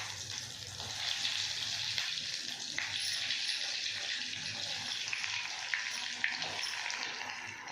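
Cheese balls frying in hot oil, a steady close sizzle with bubbling and crackling throughout, loud and continuous without any talking.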